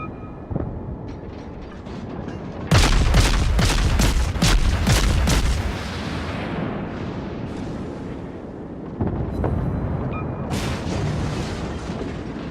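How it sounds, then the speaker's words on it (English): Naval artillery aboard a warship in World of Warships fires a rapid barrage of shells: a dense run of loud, booming blasts, a quieter rumbling lull, then another burst of heavy fire. "I can launch a lot of shells at a time."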